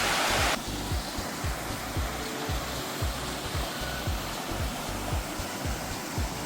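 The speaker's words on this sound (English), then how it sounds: "it's got a nice little waterfall here" A small waterfall pours into a swimming hole along the Gibb River Road, a loud, steady rushing roar heard close up and alone, with no talk over it.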